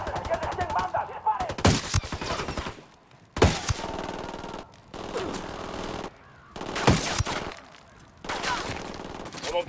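Automatic gunfire in Ghost Recon Wildlands, several sharp bursts of rapid shots separated by brief pauses, loud and close, with some voices between the bursts.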